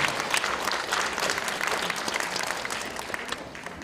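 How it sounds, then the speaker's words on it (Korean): A congregation applauds at a pastor ordination service in a memorial hall. Steady, moderately loud clapping continues evenly through the short stretch without pause. "큰 박수 축하해 주시기 바랍니다."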